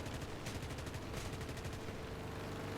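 Aircraft guns on an F4U-7 Corsair fire in War Thunder, delivering a few rapid rattling bursts that stand out over steady engine drone, with no talking.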